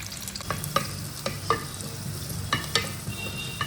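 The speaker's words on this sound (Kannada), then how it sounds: "ಮೀನು ಸಾರು ಮಾಡಲಿಕ್ಕೆ ಸ್ವಲ್ಪ ಈರುಳ್ಳಿ ಹಾಕ್ತೇನೆ." Onion fries in coconut oil for a Mangalore-style fish curry, a moderate close sizzle broken by regular clinks and scrapes of a spoon stirring the pan every half second or so.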